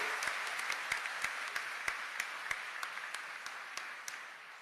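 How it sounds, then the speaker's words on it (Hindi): Audience applause for Maharaj ji at the inauguration of a book festival at Deen Dayal Upadhyaya Gorakhpur University, a dense steady clapping from a large crowd with a few sharper individual claps standing out, sustained throughout. "एक जोरदार ताली महाराज जी के लिए, जोरदार गड़गड़ा के"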